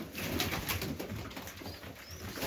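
Highflyer pigeons coo softly during a late-afternoon feed, with faint wing flaps and bird calls over a steady background hum.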